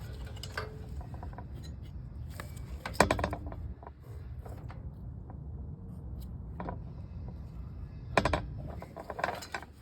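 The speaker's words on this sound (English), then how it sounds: "I'm gonna go ahead and tighten mine down a little bit more with my socket" A socket wrench ratchets in short bursts while bolts on a snowblower ignition coil are tightened, quiet mechanical clicking with a few sharper knocks and brief pauses between runs.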